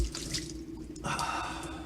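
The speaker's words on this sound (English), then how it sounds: "putting some water on my eyes, getting that onion out of my eye" Tap water splashed onto the face at a kitchen sink, a short close run of dripping and splashing under a running faucet, with no voices.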